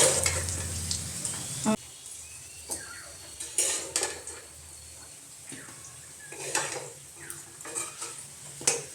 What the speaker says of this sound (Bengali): তেলেই ম্যারিনেট করে রাখা সয়াবিনটা ভেজে নিচ্ছি